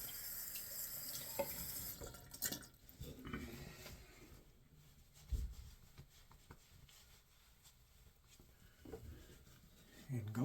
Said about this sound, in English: So let me wash this off my face.